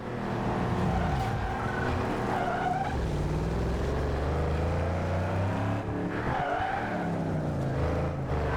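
A Toyota Corolla races in the video game Need for Speed Underground 2, its engine revving and shifting with rising and falling tones, tires squealing and skidding through corners, loud and continuous.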